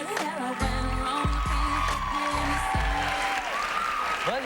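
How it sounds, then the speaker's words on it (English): Studio audience applause on a daytime talk show, loud and sustained throughout, with a musical band vamp playing under it. "Well, you heard the applause."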